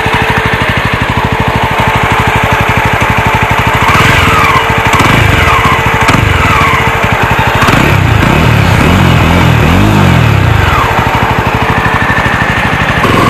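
A Jawa 42 motorcycle's single-cylinder engine idles close by with a steady rapid exhaust thump, then gets blipped into a few sharp revs before settling back to idle.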